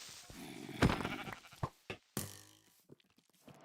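Sheep in a video game bleat in several separate calls, one long loud bleat followed by shorter sharp ones, close and clear with no talk over them.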